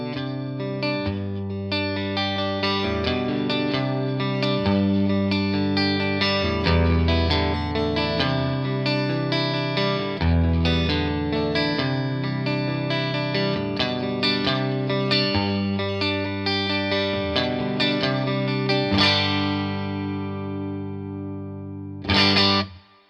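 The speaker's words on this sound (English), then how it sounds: "That's a Telecaster." Vintage Icon V62 Telecaster electric guitar played through an amp on its neck pickup, with effects and light distortion: a steady run of chords and single notes lasting over twenty seconds, ending in a ringing sustain and a final strum.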